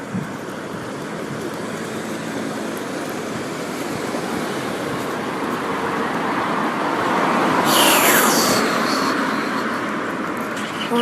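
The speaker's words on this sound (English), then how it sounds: "there's loads of cars down here as well" Road traffic near a seaside area, a steady broadband roar of cars passing continuously, with one vehicle swelling louder as it goes by near the end.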